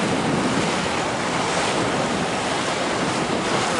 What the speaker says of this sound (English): We have the ACTV water taxis,